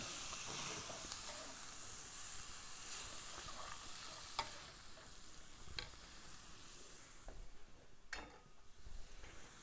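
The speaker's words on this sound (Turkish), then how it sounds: "Tereyağına soğanlarımı atıyorum." Steady sizzling of onions frying in butter in a pan, a continuous hiss with occasional stirring scrapes and pops, close and moderately loud, no talking.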